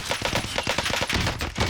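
Rapid automatic gunfire in a Call of Duty match, a fast string of sharp cracking shots fired in quick succession, loud and close, with no talk.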